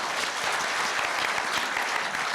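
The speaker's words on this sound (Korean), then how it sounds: "박수 한번 크게 보내주시기" Audience applause fills a hall at the Korea University student newspaper's 70th anniversary ceremony, a steady, dense clapping that holds at an even level throughout.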